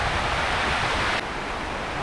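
Heavy rain pours down at a rock shelter, a dense, steady roar of broadband hiss that drops slightly in level partway through, with no voices.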